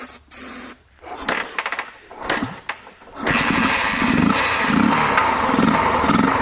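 A Harley Davidson military dirt bike engine sputters and catches in bursts, then settles into a loud, steady, rough idle running on its carburetor, close by.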